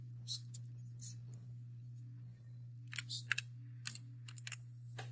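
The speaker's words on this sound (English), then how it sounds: "I click the start button and type here." Typing on a Windows PC keyboard, with short bursts of quiet key clicks spaced across the moment over a steady low electrical hum; no talk.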